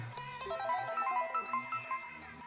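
A short chime tune from the video game Danganronpa V3: a quick run of bright, tinkling bell-like notes over a low tone, clear and close, with no voices.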